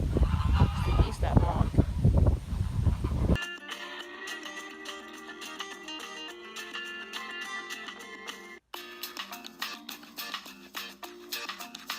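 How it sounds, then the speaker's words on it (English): Geese honking at a drive-thru zoo: a few seconds of loud, close voices and calls give way to a steady run of distant honking and clucking fowl noise. "It's the geese that honk."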